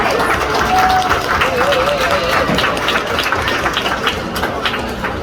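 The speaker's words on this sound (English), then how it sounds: "Let's give them a round of applause." An audience applauds at a sea lion show, giving steady clapping under a noisy outdoor crowd din, with some faint voices mixed in.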